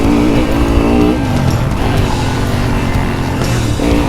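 An enduro motorcycle rides a muddy motocross track, its engine revving loud and close with rising and falling pitch as the rider works through the course.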